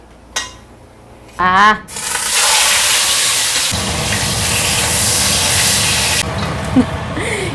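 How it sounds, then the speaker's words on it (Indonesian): Kerupuk crackers hit used cooking oil in a home kitchen and set off a loud, close, continuous sizzle and crackle, after a few clatters of utensils and pans. "Ini jadi aku goreng sedikit."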